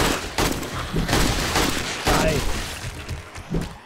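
Rapid gunfire from a weapon in the zombie survival game 7 Days to Die, a burst of loud repeated shots with a player's voice underneath.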